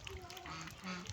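Domestic ducks raised at home quack in a brief, faint burst of nasal calls over a low background murmur.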